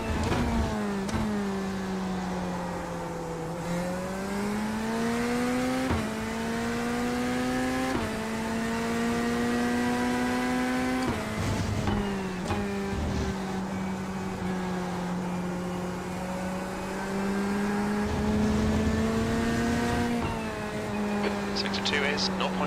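A Corvette GT race car's engine drones in a racing game, pitch rising and dropping through gear shifts over a long steady run, with a voice talking over it.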